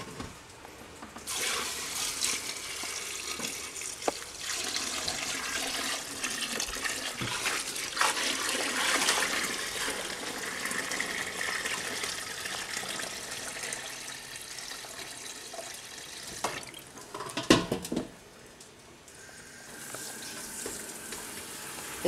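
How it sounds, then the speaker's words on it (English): Water pours and splashes steadily over Japanese paper pulp as the caustic agent is rinsed out, a continuous close rushing wash with a brief louder splash near the end, then quieter trickling. "Now all the caustic agent has to be rinsed out and the pulp has to be thoroughly cleaned."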